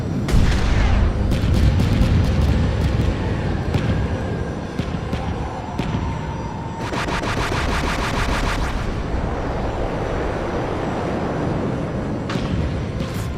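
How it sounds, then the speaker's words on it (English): Video game explosions and gunfire in a Mecha Knights raid, dense loud booms and rapid crackling bursts layered continuously, with a sustained rattling barrage in the middle and sharp blasts throughout. "All these explosions"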